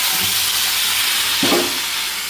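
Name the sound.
chicken added to fried onions sizzling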